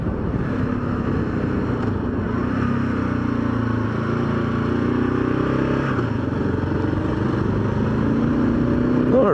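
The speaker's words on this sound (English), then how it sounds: "KLR is running awesome" A Kawasaki KLR motorcycle engine runs steadily on its first ride of the season, a continuous low droning hum with a slowly shifting pitch, held close and loud throughout.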